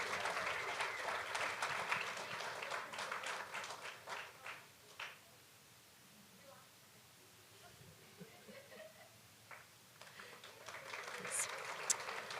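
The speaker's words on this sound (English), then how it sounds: "You guys could applaud longer, which would be helpful." Audience at a university speech showcase gives its finalists scattered applause that thins to a few isolated claps and fades. Murmured talk fills the lull before the clapping swells again.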